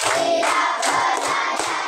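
Students in a classroom clap in unison for a counting clap game, a few loud, evenly spaced bursts of many hands clapping together, close and steady.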